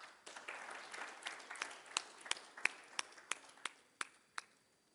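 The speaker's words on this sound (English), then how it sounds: "A round of applause, please" Sparse applause at a business event starts as a soft scattered patter, then thins into a handful of distinct, sharp single claps spaced out and fading toward the end.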